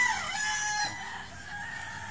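A rooster crows once on a poultry farm, a fairly faint, drawn-out call that trails off into quiet farmyard background.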